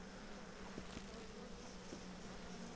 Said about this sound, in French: il s'est fait embêter par les abeilles, logique